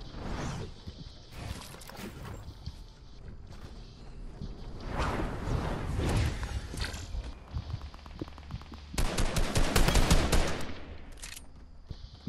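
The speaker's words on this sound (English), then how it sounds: "What are you guys shooting at?" Gunfire in a Fortnite match, with rapid bursts of automatic shots building to a loud, dense volley near the end, amid movement and mechanical clatter.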